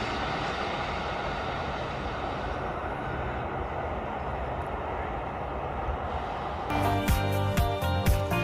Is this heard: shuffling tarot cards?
no